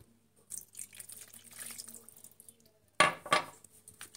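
Half a cup of water poured over flour-coated chicken strips in a kitchen, soft faint clinks and rustles followed by a sudden short splash of poured water, close by.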